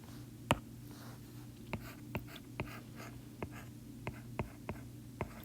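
Pen drawing on paper while sketching a chemistry reaction diagram: faint, close scratches and regular taps of the tip at steady intervals over a low electrical hum, with no speech.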